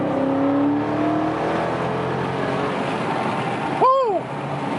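A car's engine roars loud and close at sustained high revs under hard acceleration. A sharp rising-and-falling whine cuts in near the end before the sound eases slightly.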